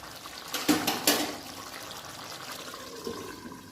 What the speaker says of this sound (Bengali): আমার একটু জল লাগবে, আমি একটু জল দিয়ে দেবো অল্প